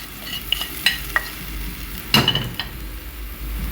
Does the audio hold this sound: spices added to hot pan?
yes